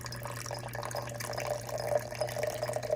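Hot liquid pours from a lidded pot into a cup already holding cream, making a continuous close splashing stream with a slightly rising fill tone and no voices.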